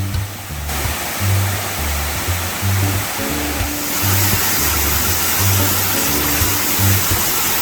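Steady roar of a mountain-valley waterfall in Daegu, South Korea, loud and continuous, with a low rumbling undertone throughout.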